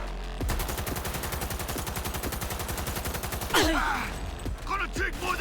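In Cyberpunk 2077, a gun fires a rapid, evenly spaced automatic burst for about three seconds, then stops, and a voice speaks over low background noise.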